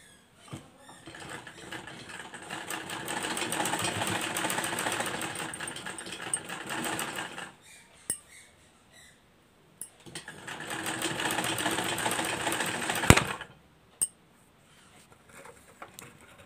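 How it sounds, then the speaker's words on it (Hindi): Electric sewing machine stitching a yellow fabric piece for a lace neck design, running in two long steady bursts of rapid needle chatter separated by a pause, close and clear with no talking. "अब हम इसके ऊपर रखकर इस पर सिलाई लगा लेंगे।"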